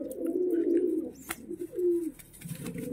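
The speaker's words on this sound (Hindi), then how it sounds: "तो ऐसे कबूतर फिर आ गए इसके पास।" Pigeons near a baby pigeon give close, low, throaty coos in several drawn-out phrases with short pauses between them. The calls come clearly, with no talk over them.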